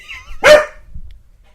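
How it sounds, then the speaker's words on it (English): A dog gives one loud, close bark, followed by a faint low rumble and near silence. "this fucking dog"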